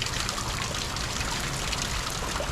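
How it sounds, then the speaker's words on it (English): Water pouring continuously out of a blocked, overflowing tank after heavy rain, a loud steady rushing splash close by with no voices. "as you can tell, it is just pouring out of our tank."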